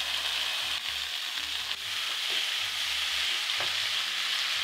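Soaked lentils go into a pot of cooked-down tomatoes for lentil soup, giving a steady sizzle and bubbling with a few soft stirring knocks, close and continuous with no talking.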